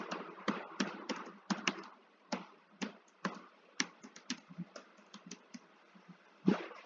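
Keys clack on a computer keyboard as an email address is typed, a quick irregular run of close, crisp taps with short pauses and no voices.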